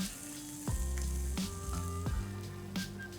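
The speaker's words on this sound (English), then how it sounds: "I'm only going to cook this till all the corn kernels are warmed through." Corn kernels sizzling in a hot pan as they roast, a steady frying hiss broken by several sharp pops and clatters of stirring, close and fairly loud with no talking.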